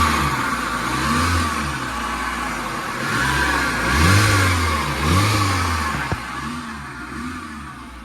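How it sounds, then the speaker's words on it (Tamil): Engine of a Maruti Eeco van under service, a loud steady mechanical hum with repeated rising and falling revs, close up and alone, with a single sharp click near the end. "இந்த ஈகோட இன்ஜினில் பாருங்கள் எவ்வளோ அம்மிங் நாய்ஸ் வருது"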